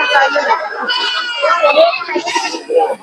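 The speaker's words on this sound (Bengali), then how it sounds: "এই হাটে কিন্তু প্রচুর ছাগল এই যে দেখেন কি পরিমাণ ছাগল বেচা কিনি হয়" Goats bleat repeatedly at a local village goat market, with several close, loud, wavering calls overlapping one another and possible faint children's voices mixed in the background.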